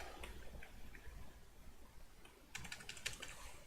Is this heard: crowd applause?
no